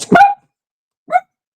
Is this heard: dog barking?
yes